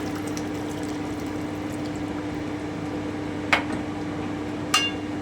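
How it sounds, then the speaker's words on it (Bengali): Diluted yogurt going into a pot of chicken rezala and being stirred, a low bubbling, liquid wash under a steady hum, with two short sharp clinks of a spoon against the pot near the end. "এবারে আমি দইয়ের ঘোলটা দিয়ে দিচ্ছি একটু নেড়ে নেব"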